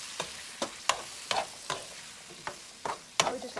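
Beef simmers in sweet chili sauce thickened with cornstarch in a pan, a soft background bubble and sizzle broken by about eight sharp scraping strokes of a spatula at a quick, irregular pace.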